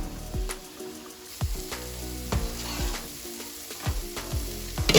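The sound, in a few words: draining boiled potatoes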